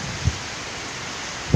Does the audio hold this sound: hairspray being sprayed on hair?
no